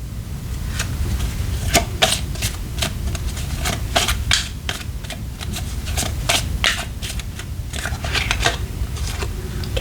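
Tarot cards being shuffled: a rapid run of crisp card snaps and riffles over a steady low background rumble, close and continuous.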